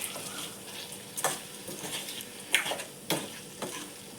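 Cooking pigeon pea (toor) dal stirred and mixed in a pan: repeated scraping strokes in an irregular rhythm over a faint sizzle, close and moderately loud, with no voices.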